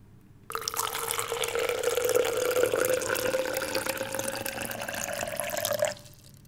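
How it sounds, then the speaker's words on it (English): Liquid poured in a continuous stream from about half a second in, a close, steady trickle with a gently rising tone that stops abruptly near the six-second mark, recorded as an ASMR sound. "So first the pour."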